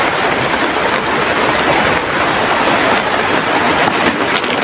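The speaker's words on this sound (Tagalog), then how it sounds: "Yan, ulan na naman." Steady rain pours down outdoors as a broadband hiss at constant loudness, close and continuous throughout with no voices.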